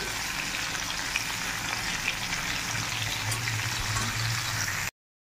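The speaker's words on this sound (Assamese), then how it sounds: "আৰু এইপিনে মাছ ফ্ৰাই কৰি আছোঁ" Fish sizzles as it fries in a pan in a home kitchen, a dense and continuous crackle with a low bubbling underneath that cuts off abruptly near the end, with no talking.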